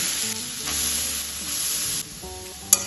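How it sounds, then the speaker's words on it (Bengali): Grated carrot fries in hot oil with a steady, bright sizzling hiss, close and fairly loud, with a sharp tap near the end. "আমি এবার এর মধ্যে গ্রেট করা গাজরটা দিয়ে দিলাম।"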